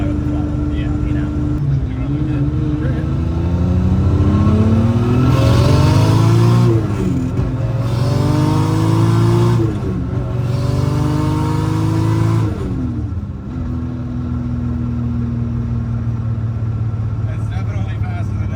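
A tuned Toyota MK4 Supra accelerates hard through several gear changes, its engine note rising loud and close in repeated sweeps before easing off; a voice speaks alongside.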